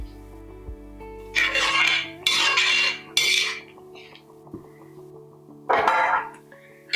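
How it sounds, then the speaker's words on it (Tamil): A metal ladle stirring soya paneer gravy in a pot, several loud clattering bursts of metal against metal with quiet gaps between them and a steady low hum underneath. "இதை நல்லா ஒரு வாட்டி கலந்து விட்டுருவோம்"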